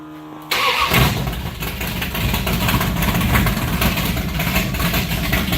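A 1968 Plymouth Barracuda engine fires up after a brief quiet cranking, catching abruptly into a loud, rough, rumbling idle that continues steadily to the end.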